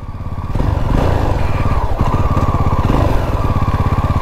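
A 2022 Jawa 42 2.1 motorcycle engine runs loud and close while riding, a steady throbbing single-cylinder thump with a low pulsing rhythm and wind noise, no talk.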